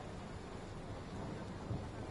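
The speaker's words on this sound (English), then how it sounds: "Still thunder and lightning." Thunder rolls with a low, continuous rumble under steady rain in the Train Sim World 5 video game, a soft, even storm bed without distinct claps.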